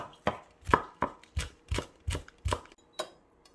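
A knife slices kimchi very thinly on a cutting board for two servings of cold buckwheat noodle rolls, making eight crisp, evenly spaced chops close up with no talking.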